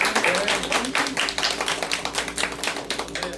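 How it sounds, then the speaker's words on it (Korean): Brief encouraging applause from a youth group seminar audience, a steady rhythmic patter of fairly close hand claps throughout. "격려 박수 부탁드리겠습니다."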